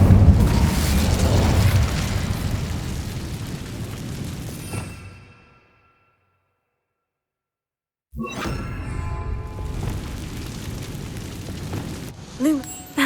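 Incendio fire spell cast in Hogwarts Legacy: a loud fiery blast and whooshing burst that rolls on for several seconds, breaks into silence, then returns with crackling effects and game sounds.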